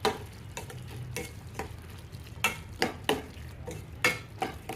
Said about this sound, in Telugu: యాడ్ చేసి ఒకసారి కలుపుకొని మూత పెట్టేసుకొని మగ్గించుకోవాలి.